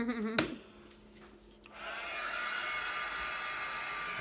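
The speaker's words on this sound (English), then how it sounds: "I am gonna turn the heat gun on for a minute and it's gonna make a noise" A heat gun switches on partway through, giving a steady, fairly loud whirring blow that runs to the end after a brief short noise and a quiet stretch.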